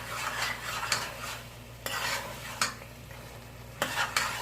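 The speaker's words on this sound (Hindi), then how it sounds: "अब इसमें गरम मसाला और काली मिर्च ऐड करके ये बिल्कुल एंड पर डालते हैं और मिक्स कर लेंगे।" A spoon stirring spicy beef qeema in a pan with garam masala and black pepper just added, giving soft sizzling under repeated scraping strokes and sharp clinks of metal on the pan, close and fairly quiet, with no talk.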